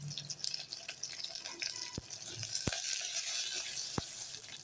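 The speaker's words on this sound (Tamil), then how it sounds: "இது இப்போ 2 நிமிஷம் வதங்கியிருக்கு" Chopped vegetables and a sprig of curry leaves sautéing in a pan for tiffin sambar, a steady close sizzle with hissy crackle and a few sharp clinks from a utensil against the pan.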